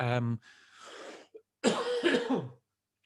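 A short sung or voiced note, then several rough coughs and a harsh throat clearing, close up, separated by brief pauses.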